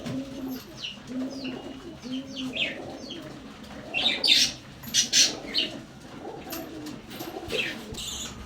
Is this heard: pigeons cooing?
yes